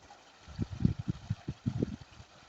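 Stream water flowing through a rocky wadi at Al Qurum, Oman, heard as a soft irregular babbling with low gurgling pulses, fairly faint and without any talk.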